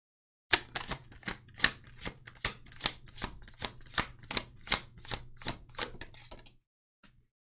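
Tarot cards riffled and snapped in a rapid, even run of about a dozen crisp strikes, close and fairly loud, with no voice, then a brief pause and one faint last tap.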